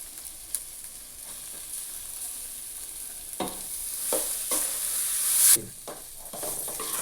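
A potato filling for aloo paratha is stirred in a frying pan, with a low steady sizzle and several scraping strokes in the middle. One stroke near the end is louder than the rest.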